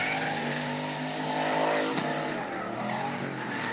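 Drift cars with big turbo LS engines mounted on the bonnet race out of a corner at Winton Raceway. Engines roar loud and sustained, with tyre squeal layered through, and no one speaks.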